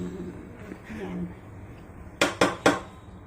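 Three sharp metallic clatters of a cooking pot being cleaned while ABC soup boils, close and distinct, following a stretch of quiet talk and low kitchen background.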